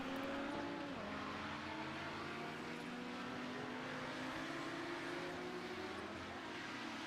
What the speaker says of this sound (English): I heard an engine revving.